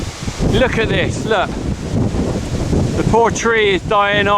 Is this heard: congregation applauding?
no